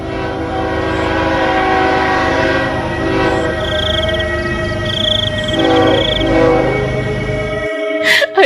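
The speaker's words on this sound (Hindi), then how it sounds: "सामने पीछे से ट्रेन उसकी ओर आ रही होती है।" A train comes along a railway track toward the listener, a loud, sustained horn blaring over a rumbling roll of wagons, building slightly before cutting off abruptly near the end.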